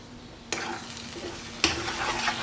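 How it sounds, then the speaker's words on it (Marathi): Ingredients for a homemade Schezwan chutney are stirred together in a pan, giving a close, wet scraping swish with two distinct stirring strokes over a steady low hum. "सर्व आधी एकत्र कालवून घेऊया"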